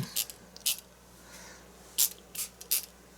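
Water sprays onto a painting of a wintry Alpine scene in short, sharp hissing spritzes from a hand sprayer, five or six quick bursts in irregular rhythm, close and crisp against a quiet background.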